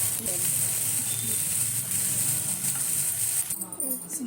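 Fresh curry leaves sautéing in hot oil in a pan for a peanut chutney, a steady close sizzle and hiss that drops off near the end. Faint voice underneath.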